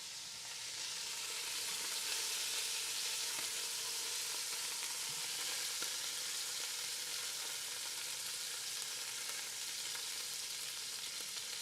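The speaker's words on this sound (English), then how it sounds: "Do you hear the sizzle?" Beef browns in a hot pan for beef bourguignon, giving a loud, steady, dense sizzle and crackle that runs unbroken throughout with nothing else over it.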